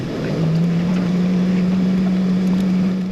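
JSX jet engines spool up in a steady, rising whine with a constant low hum and rushing air, heard from inside the cabin of a semi-private jet.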